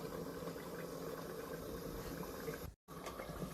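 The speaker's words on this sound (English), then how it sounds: "Increase the heat just enough to bring the stew to a gentle boil" Iranian zucchini and beef stew bubbles gently in a pot, a soft, steady simmering murmur close by, cut by a brief dropout near the end.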